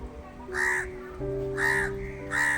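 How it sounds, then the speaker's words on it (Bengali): A crow caws loudly three times in harsh, evenly spaced calls, close and clear over a faint steady hum in a quiet morning setting. "এত চেঁচাচ্ছে কাকটা"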